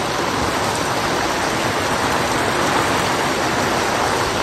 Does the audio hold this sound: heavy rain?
yes